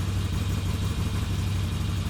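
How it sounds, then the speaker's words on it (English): A BSA motorcycle engine running steadily after being fired up, a continuous low rumbling idle that holds close and loud throughout with no talk over it. "firing the bike up, because the Thunderbox only comes to life when the engine is running"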